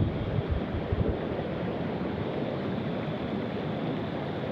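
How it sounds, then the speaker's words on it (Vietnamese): Rushing water flows below rocks in a deep forest, a steady, fairly quiet broadband roar with no distinct splashes and no voices. "nghe cái tiếng chảy ào ào ào à"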